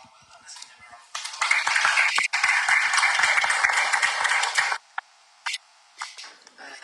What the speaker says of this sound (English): Let's give them a round of